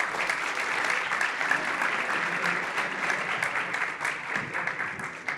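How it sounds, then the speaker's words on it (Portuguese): An audience at a panel event in a Brazilian business school hall applauds the moderator, a steady, dense round of clapping lasting throughout, moderately loud and even, with no one speaking over it. "Uma salva de palmas, por favor, gente."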